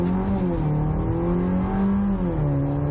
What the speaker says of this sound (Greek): Στο πάτωμα το γκάζι.